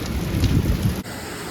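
Steady heavy rain pouring down in Jeddah, a dense hiss of drops on hard surfaces that dips briefly partway through, with no voices.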